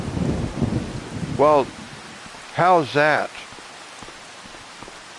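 Steady rain falls in the video game Farming Simulator 25 on PS5, an even hiss that carries on throughout as someone speaks briefly over it.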